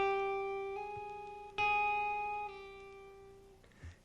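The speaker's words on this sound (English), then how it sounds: "or you will get a hammer-on sound like this." A guitar hammer-on from a rock guitar lesson: a sustained plucked note changes to a new pitch with no fresh pick attack, a second note follows, and both ring out and fade, close and clean with no talk.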